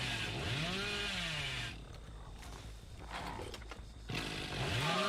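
A chainsaw revs loudly in a horror video game, rising and falling in pitch for about two seconds, dropping away to a quieter stretch, then surging back near the end.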